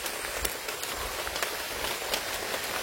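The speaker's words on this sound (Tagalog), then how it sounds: "nabutan kami ng ulan" Rain falls steadily in a dense, even hiss with scattered drops pattering close by, continuous and fairly loud throughout.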